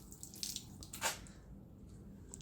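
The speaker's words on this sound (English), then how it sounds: "I do have a glass of water here to see what happens when we pour some water on it." A glass of water is poured onto a freshly waxed car coated with ceramic hyperwax, producing faint splashes and drips that run off the paint, with one brief louder splash partway through.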